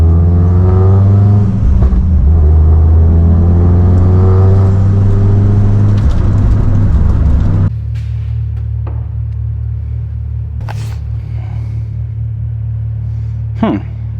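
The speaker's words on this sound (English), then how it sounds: "I'm gonna go on a quick drive and see how she feels cruising around." Car engine running steadily while driving and cruising after a rough idle was smoothed out, a low continuous rumble throughout with a brief harder engine surge early on and a few faint clicks and knocks later.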